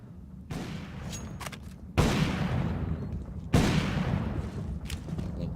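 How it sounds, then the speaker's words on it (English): Explosive blasts from grenades and molotov fire in the game Counter-Strike: Global Offensive, three heavy booms landing about every second and a half, each leaving a rumbling, crackling tail over constant low game noise. "Cert getting naded and mollied out, all of the utility pinstring him out"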